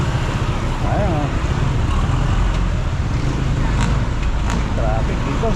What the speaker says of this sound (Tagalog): Traffic dito.